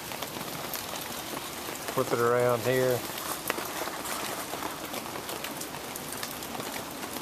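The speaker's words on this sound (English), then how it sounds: "This is rain." Steady rain falling on surfaces at a creekside camp with a fire, a soft continuous patter throughout, while someone speaks briefly in the middle.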